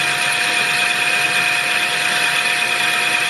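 A lathe drills a wheel bore at 550 RPM with a loud, steady machining drone and a sustained high tonal whine that holds constant throughout.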